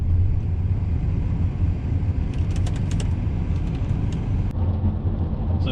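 Holden VY V6 Storm car driving on the road, a steady low engine drone with road rumble inside the cabin, and faint ticking and rattles above it.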